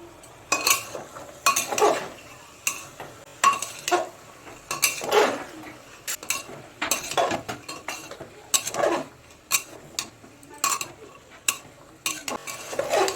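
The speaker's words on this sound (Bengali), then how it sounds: "দিয়ে মশলাটাকে একটুখানি কষিয়ে নেব।" A spice paste with a little water is stirred and fried in a pan for a vegetarian pea ghugni, heard as rhythmic bursts of spatula scraping and clattering against the pan with only a faint sizzle underneath.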